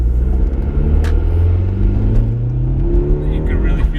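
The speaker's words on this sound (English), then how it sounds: "You pull that first gear, and when you get on it," Turbocharged Audi A4 with a K04 turbo upgrade pulling hard in first gear, its engine note rising steadily in pitch under heavy load, a loud continuous close rumble from inside the car with voices talking over it.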